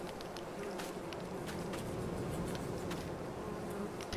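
Bees buzzing in Farming Simulator 22, a dense continuous swarm hum with scattered closer buzzes passing by, fairly loud and steady throughout.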